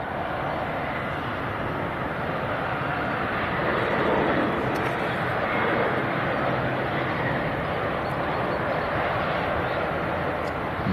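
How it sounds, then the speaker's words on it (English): A NetJets Challenger 350 business jet comes in to land at Leeds Bradford Airport, its engines making a broad, steady whine and roar that swells slightly toward the middle, heard from a distance under voice chatter. "NetJets Challenger 350. That's come down from Edinburgh."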